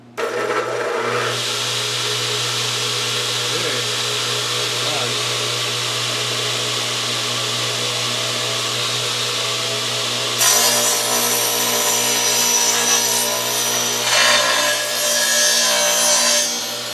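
A Craftsman 12-inch radial arm saw runs with a steady motor drone, then cuts through a wooden fence with a louder, rougher whine partway through.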